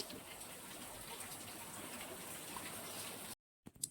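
Rain begins falling at night as a steady, fairly soft hiss of drops, dense and continuous, before cutting out briefly and being followed by a few faint knocks.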